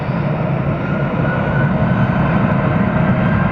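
An MD-80 series jet airliner with small, slim engines takes off at Atlanta Hartsfield, producing a loud, continuous broadband jet roar that stays steady and close throughout.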